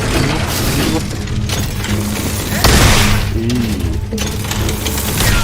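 Something shatters in Steelrising, a sharp breaking crack with clinking debris that stands out over a continuous din of combat clatter and booms, loud and close.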